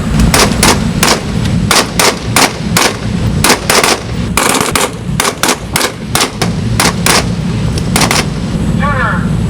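Rifle shots at a shooting range crack out in rapid succession, loud and close, in an irregular string of sharp reports with a low hum of activity underneath.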